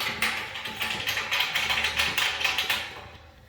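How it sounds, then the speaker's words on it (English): Hand-tightening a 13 mm bolt on the legs of a MiniMax honey extractor gives a steady run of quick, close ratcheting clicks, dense and evenly paced, fading out at the end with no talking. "I'm going to tighten that up by hand like I just did"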